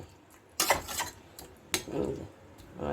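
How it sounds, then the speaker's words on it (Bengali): Spice paste being stirred and mixed with water in a cooking pan for a Bengali kakrol (spiny gourd) curry, with a few sharp clinks of a utensil against the pan between softer scraping strokes. "জল দিয়ে দিচ্ছি ভালো করে মিক্সড করে নিতে হবে মশলাটাকে"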